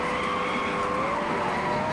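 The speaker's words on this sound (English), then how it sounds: "Guys, look at that drift." A car drifts in a driving video game, tires skidding in a continuous, loud squeal with a wavering tonal whine under steady engine roar.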